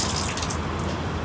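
Running tap water at a toilet sink while hands are washed, a steady hiss of flowing water with faint splashes, close and continuous with no talking.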